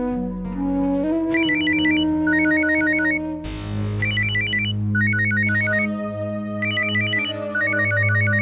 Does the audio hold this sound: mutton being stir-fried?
no